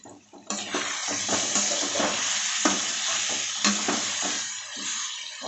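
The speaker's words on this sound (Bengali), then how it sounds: "আলু আর পেঁয়াজটা ভালো করে কষে নেব।" Potatoes and onions sizzle and fry with spices, garlic paste and a splash of water in a pan, a loud steady hiss broken by repeated scraping stirs of a spoon close by.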